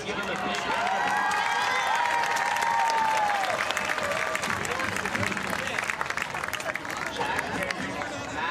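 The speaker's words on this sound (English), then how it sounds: "Let's give him a big round of applause." A large crowd claps and cheers at a high school football game, a broad sustained wash of applause with a long whistle riding over it, then easing slightly.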